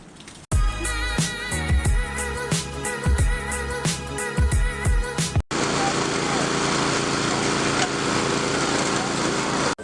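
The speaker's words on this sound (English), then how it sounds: "Honda HS520 single stage paddle 4-stroke snowblower engine start, carburetor clean" A Honda HS520 single-stage paddle 4-stroke snowblower, just after a carburetor clean, sputters loudly with uneven bursts, then settles into a steady, close, roaring run.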